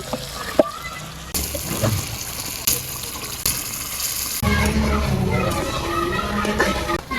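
Chicken meat sizzling in spiced oil masala in a village kitchen, a steady frying hiss that swells louder partway through after something is added, with occasional stirring clinks.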